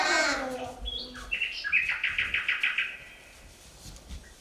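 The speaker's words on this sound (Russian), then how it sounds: "Дети, слышите голоса птиц?" Bird calls ring out clearly: a quick rising call followed by a rapid series of repeated chirps that trail off, fairly close and alone.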